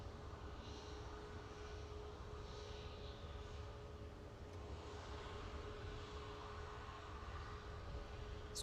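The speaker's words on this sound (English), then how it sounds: "There's an EasyJet taxiing out." A low, steady jet engine rumble and hum from an EasyJet airliner taxiing at Manchester Airport, heard at a distance as a continuous drone.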